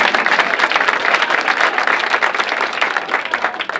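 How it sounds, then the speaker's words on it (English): An audience at a public healthcare forum bursts into lively clapping, dense and continuous for several seconds, loud and close with no speech over it. "Clap your hands."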